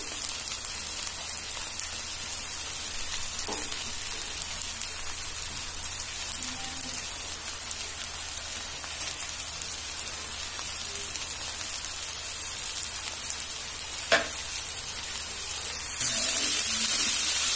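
Soya egg roll filling frying in a pan with a steady, close sizzle like light rain throughout, brief stirring clinks, and the sizzle growing louder near the end.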